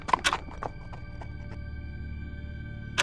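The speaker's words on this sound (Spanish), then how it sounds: "no te asomes cuando escuches el galope de un caballo a lo lejos" Horse hooves clip-clopping at a distance, a few spaced hoof beats over a low rumbling background, with a brief whinny-like burst at the start and end.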